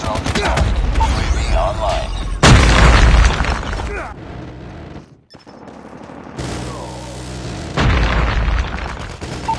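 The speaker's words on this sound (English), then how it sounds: "Enemy sentry gun has been destroyed." Loud gunfire and heavy explosions in a Call of Duty Mobile match, bursts of rapid shots and booms coming in waves with a brief near-silent gap midway, overlaid by an announcer voice reporting killstreak events.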